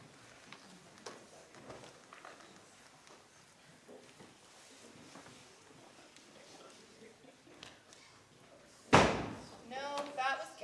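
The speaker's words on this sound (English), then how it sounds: "No, that was Ken's door" Near the end of a quiet stretch in a high school drama production, a single loud door slam rings out in the theatre, followed by faint stage noises.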